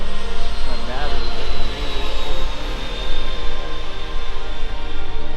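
Twin 80mm electric ducted-fan motors whine steadily as a Freewing A-10 Thunderbolt II RC jet flies at a little over half throttle, a loud continuous high-pitched drone that holds throughout.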